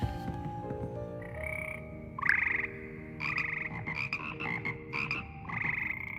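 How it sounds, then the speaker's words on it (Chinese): A chorus of frogs croaks in the video game Hogwarts Legacy, in repeated tonal, warbling calls that come in short bursts over a soft ambient background. "这是青蛙的歌吗？"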